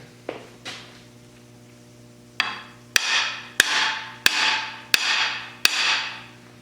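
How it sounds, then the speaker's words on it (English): Metal clanks as a hammer drives in a camshaft bearing on a Triumph TR2, TR3 or TR4 engine, about six sharp blows at a steady rhythm, close and ringing over a low electrical hum. "start hammering again."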